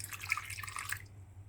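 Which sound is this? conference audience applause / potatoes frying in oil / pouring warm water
pouring warm water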